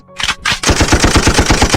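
Rapid automatic gunfire from an action film scene, a loud, close, evenly spaced burst of about a dozen shots after two short opening bursts.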